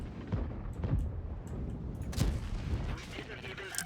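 An M48 Patton tank in World of Tanks firing its main gun, heavy booming shots with rumbling battle noise and a voice talking over it.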